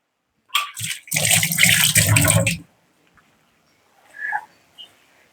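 Running tap water splashes over hands in a short burst of about two seconds while they are washed during home cooking of a beetroot thoran, then a few faint kitchen sounds follow with no talk.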